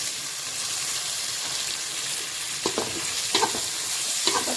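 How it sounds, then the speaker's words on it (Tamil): Tomatoes sautéing in a pan for fish curry, a close continuous sizzle with a few soft scrapes and stirring knocks near the end. "தக்காளி வதங்கட்டும்."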